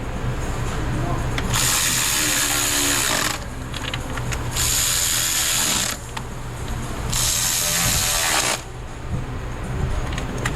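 A ratchet socket wrench clicks steadily while bolting down an engine's upper intake. Three bursts of rapid, close pawl clicking stand out over a busy workshop background.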